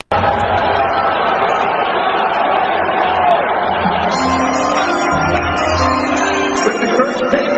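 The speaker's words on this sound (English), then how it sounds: "here's the crowd reaction in the Amway Center last night" An arena crowd at the Amway Center in Orlando reacts to an NBA draft pick with continuous loud chatter and hubbub that swells slightly toward the end.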